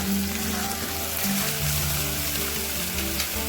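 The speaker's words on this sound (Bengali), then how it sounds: "দিয়ে দেব কেটে রাখা পুঁই ডাঁটা দিয়ে ভালো করে নেড়ে নেবো" Malabar spinach stalks being stirred into reddened onion in a pan for a home-style mustard-paste pui shak chorchori, with a steady sizzle and fry that holds at a constant close level, alone with no talk.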